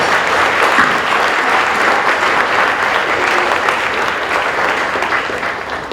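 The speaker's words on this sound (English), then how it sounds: "So perhaps another round of applause for Minha and also yourselves." Sustained, dense applause from an audience at a school presentation day awards ceremony, loud and steady throughout before easing slightly toward the end.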